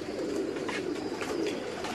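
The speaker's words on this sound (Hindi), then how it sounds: "ये उनके प्योर टैडी कबूतर हैं जी" Pure Teddy pigeons from Sakhi Mohammad Bhatti's rooftop loft coo in low, soft, continuous murmurs at close range, with no talk over them.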